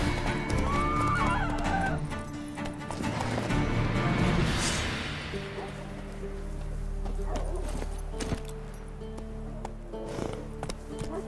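Roach the horse in The Witcher 3 whinnies, then hooves clip-clop in a steady trot, fairly close, with game ambience and music beneath.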